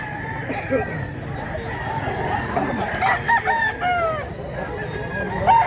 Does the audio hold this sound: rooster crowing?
yes